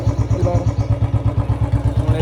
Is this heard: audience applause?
no